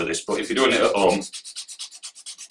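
Someone speaks briefly, then a wooden gun stock being refinished is hand sanded in a quick, regular run of about ten rasping back-and-forth strokes, close and distinct.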